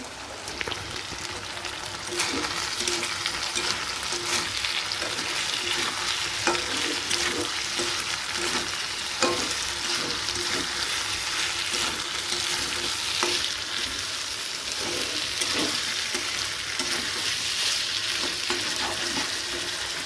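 Paneer frying and sizzling in a pan at night in a home kitchen, a steady broadband crackle and hiss lasting throughout with occasional stirring scrapes and no talking.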